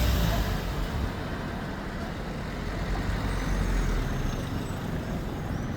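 Dense, continuous rumble of cars and trucks crawling in a jammed road in Avanos, with low engine drone, heavy vehicle noise and faint air-brake hiss filling the scene without pause.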